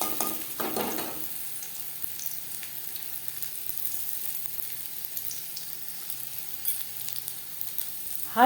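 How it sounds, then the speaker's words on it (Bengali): Okra (bhindi) coated in gram flour frying in hot oil, a soft, continuous crackling sizzle with a brief splash of louder bubbling near the start and a clatter at the end. "পরের ব্যাচের ভেন্ডি একইভাবে ভেজে নেব"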